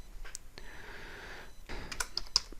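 Keys tapped on a computer keyboard while a name is typed, a light, irregular run of quiet clicks with brief pauses, close and soft.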